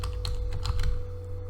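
Quick typing on a computer keyboard while entering a Spring Boot application properties file, a soft flurry of key clicks over a steady low electrical hum, close by with no talking.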